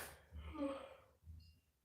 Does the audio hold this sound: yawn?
yes